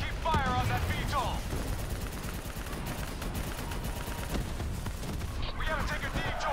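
Sustained gunfire aimed at a VTOL aircraft in Call of Duty Black Ops 3, dense and continuous, with brief voices shouting over the shooting at the start and end.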